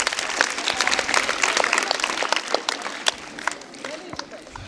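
A crowd at a Shiv Jayanti 2022 question-and-answer event bursts into lively, dense applause. Many hands clap together for several seconds, with scattered voices mixed in.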